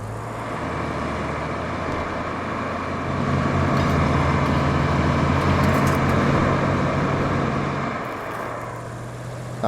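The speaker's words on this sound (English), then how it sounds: "That truck is so loud." A heavy truck engine in the Roadcraft video game drones loudly and steadily close by, its low rumble swelling midway and easing near the end, with no talking.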